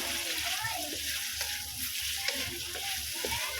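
Vegetables for a sautéed mussel and squash dish hiss and crackle in a hot pan, a steady frying sound with stirring, while someone talks over it.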